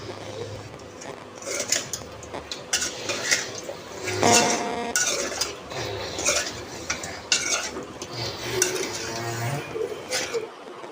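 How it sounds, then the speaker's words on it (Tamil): A spoon stirs ground spice into a meat curry in a metal pan, scraping and clinking steadily against the pan over a light background sizzle, up close with no talk. "அதை வந்து இதுக்கு போட்டு கலக்க போகிறோம்"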